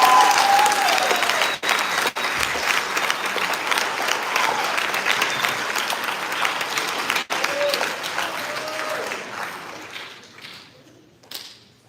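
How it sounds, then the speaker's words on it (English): A big round of applause from the crowd for student athletes signing letters of intent at a high school cheer and track signing day, dense and sustained throughout before thinning near the end, with voices faintly underneath. "you guys give them a big round of applause"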